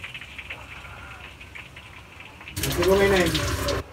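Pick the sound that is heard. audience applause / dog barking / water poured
water poured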